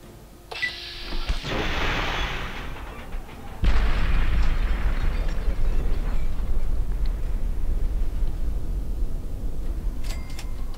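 A Fat Man launcher shot detonating against a guard robot in Fallout 3: a sharp onset followed by a loud, sustained low rumbling blast that rolls on for several seconds, with a brief lighter rattle before it.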